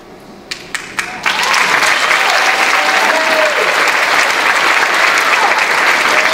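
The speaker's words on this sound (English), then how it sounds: "I would like a thunderous, full-throated applause that she's going to hear through walls and down the hallway." A church congregation bursts into loud, thunderous applause after a few scattered early claps, sustained and dense from about one second onward, with a few whoops rising over the clapping.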